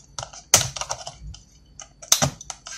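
Lenovo G470 laptop keyboard being pried loose with a pointed tool, giving two sharp plastic snaps among light scattered clicks and taps, close and fairly quiet with no talking.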